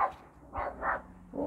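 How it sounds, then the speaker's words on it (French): A dog barks a few times, short, faint bursts at some distance with quiet gaps between them. "Oh, un chien."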